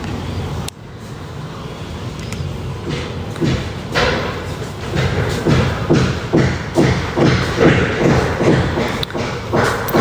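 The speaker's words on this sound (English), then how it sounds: "them out there trying to bang the wooden slats back onto the boards" Repeated thuds of workers hammering wooden slats back onto boards outdoors during Hurricane Melissa in Montego Bay, irregular knocks rising through steady wind roar.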